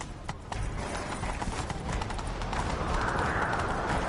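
A horse gallops in the video game The Witcher 3, its hoofbeats a steady, rhythmic clip-clop at moderate volume that holds throughout.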